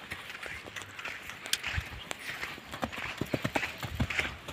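Horse hooves clip-clop in an uneven, steady rhythm at moderate distance as horses and foals are walked in hot weather, with faint background noise and little talk.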